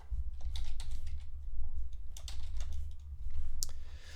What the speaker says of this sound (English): That'll explain why I wasn't typing. I was typing in the wrong spot.